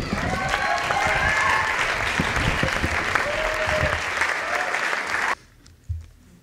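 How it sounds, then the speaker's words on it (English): An audience at a library slam poetry competition claps and cheers for a poet, loud sustained applause with whoops that cuts off abruptly near the end, leaving near quiet and a brief sound. "keep that applause going for Ben Richardson"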